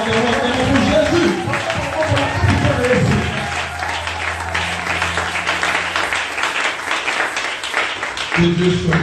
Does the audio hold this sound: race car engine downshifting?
no